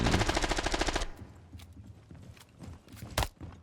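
Rapid automatic gunfire in a shooter video game rattles loudly in a fast burst for about a second, then gives way to quieter scattered shots and one sharp later crack.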